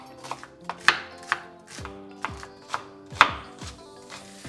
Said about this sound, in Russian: я нарезаю мелко